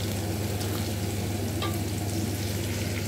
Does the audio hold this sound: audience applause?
no